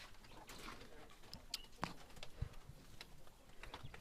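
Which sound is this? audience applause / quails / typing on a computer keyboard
quails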